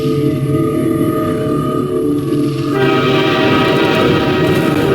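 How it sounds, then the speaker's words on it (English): A train ride in the video game Half-Life 2: a steady, loud rumble of rail cars with a sustained horn-like tone and rolling noise throughout, the sound brightening partway through, with no talk. "we find ourselves on a train headed towards, somewhere"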